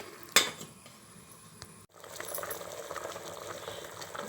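Jaggery dissolving in water as it boils in a pot while cooking a fenugreek post-delivery remedy, heard as a steady close bubbling hiss after a short clink near the start.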